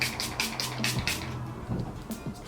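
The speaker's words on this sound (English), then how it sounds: "I'll spray a little bit of my Mario Badescu." A Mario Badescu rose water facial mist is sprayed in a run of quick, close hissing spritzes that come one after another and then trail off into quieter rustling.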